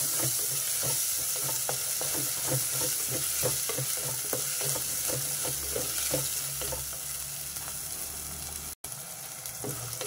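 Ginger garlic paste frying in a pan, a steady close sizzle with a rhythmic series of spoon taps and stirring scrapes running throughout, dipping briefly near the end.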